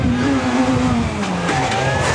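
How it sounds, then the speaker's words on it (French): Ford and Peugeot rally cars at the Rally du Var, engines howling as they pass close by, with pitch dropping and shifting over a couple of loud seconds. "La Ford Emma Piaco est précédée par la Peugeot de Ludovic Gall."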